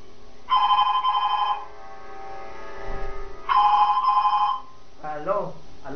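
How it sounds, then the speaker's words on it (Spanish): Telephones ring at a radio station: two loud electronic bursts, each about a second long, separated by a short gap, with studio sound beneath and a voice starting at the end. "Siguen sonando los teléfonos."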